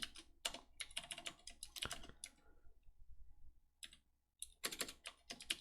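Rapid clicking keystrokes come from a computer keyboard while code is typed in Neovim, in quick bursts with a short pause in the middle, close and fairly quiet.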